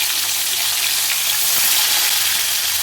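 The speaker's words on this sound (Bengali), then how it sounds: "তারপরে আর একটু সর্ষের তেল দিয়ে গরম করে আমি মাছগুলো ভেজে নেব।" Fish pieces fry in hot mustard oil, a loud, dense, unbroken sizzle that fills the whole stretch with no voices.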